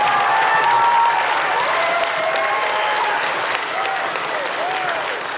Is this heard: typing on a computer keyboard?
no